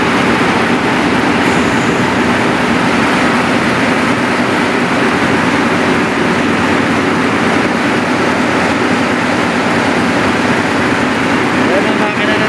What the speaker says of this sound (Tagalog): Yan ang makina ng tugboat. Medyo maingay.